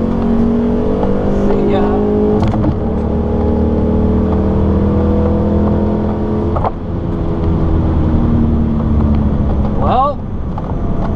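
Chevrolet with a new cam running on a racetrack, its engine droning loud and steady with rising and falling pitch, a brief voice heard near the end.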